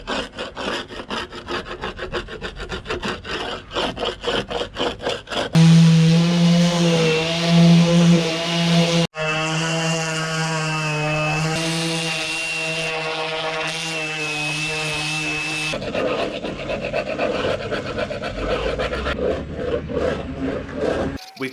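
A power sander grinds continuously against a boat hull in a boatyard, loud and close, with a steady abrasive roar that shifts in pitch and tone partway through.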